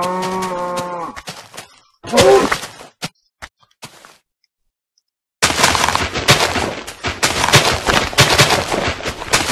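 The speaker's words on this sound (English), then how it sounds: "Oh, yep, I see a bunch of cows right now." Several cows moo in the blocky Minecraft game world, with layered harmonic lowing near the start, a louder moo around two seconds, then bursts of noisy clattering game effects filling the latter half.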